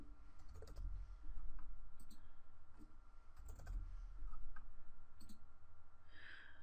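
A computer mouse clicks in the Gmail compose window: several short, sharp clicks come close up in irregular bursts against quiet room tone.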